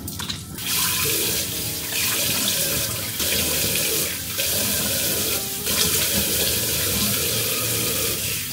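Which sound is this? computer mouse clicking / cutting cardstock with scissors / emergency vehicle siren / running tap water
running tap water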